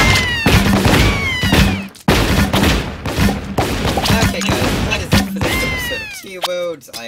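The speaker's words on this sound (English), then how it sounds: "I will turn down the gunshots" Teeworlds video game gunfire crackles in quick bursts over loud, busy game sound, with a few sharp synthetic chirps and some talking.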